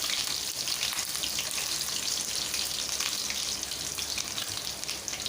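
Onions and cashews sizzle in hot oil in a pan for chicken biryani, giving a steady, dense frying hiss with faint scraping and no talk.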